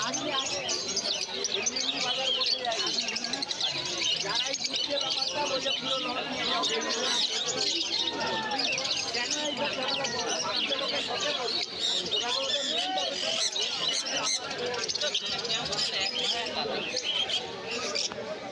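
Cockatiels and other exotic birds at a crowded street bird market, a dense, continuous chorus of chirps, squawks and calls filling the scene, with someone talking over the birds.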